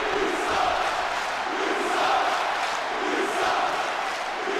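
Wrestling video game crowd in WWE 2K25 jeering a wrestler, a continuous roar of voices rising and falling in broad waves.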